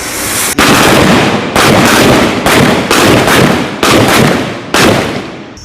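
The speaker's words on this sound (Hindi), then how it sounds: "अभी पिस्टल फायरिंग करेंगे" Pistol fires live rounds during Indian Army weapons training near the India-Pakistan border, about six loud, sharp shots at a steady, spaced rhythm, each followed by a long reverberant tail.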